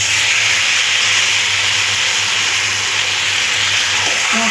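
Marinated chicken hits a pan of onions and spices and sizzles in a loud, continuous hissing crackle up close, with no talk.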